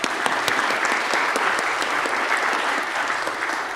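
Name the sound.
applause for the panel members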